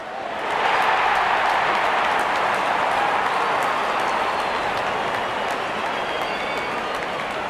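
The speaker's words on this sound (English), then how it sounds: "Out come the openers, cheered by a good crowd in." Steady, dense crowd cheering and applause from a cricket stadium crowd in Real Cricket 24 as the openers walk out, a sustained roar that swells in early and holds loud throughout.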